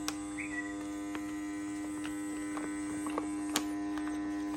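A FoodSaver vacuum sealer runs with a steady electrical hum and a faint motor drone, punctuated by soft clicks and small knocks, heard fairly quietly and close.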